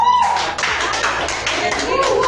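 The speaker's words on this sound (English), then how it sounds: "please put your hands together and help me welcome with a warm round of applause" Applause at a Toastmasters club meeting greets a speaker, a steady round of clapping at moderate volume with a voice talking over it.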